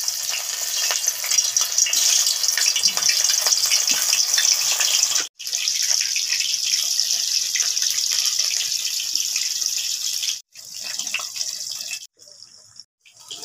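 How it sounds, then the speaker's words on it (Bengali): Cauliflower pieces frying in hot white oil in a kadai, a steady, loud hiss and sizzle running nearly unbroken, with two brief drops and a quieter, patchier stretch at the end. "তেলে আমি এই কপিগুলোকে ফ্রাই করে নেব।"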